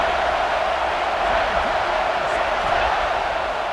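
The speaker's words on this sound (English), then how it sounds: "The Buckeye crowd alive on 3rd down" A stadium crowd in EA Sports College Football 26 roars as the Ohio State Buckeyes defend on third down, a steady, loud wash of noise running beneath a commentator's voice.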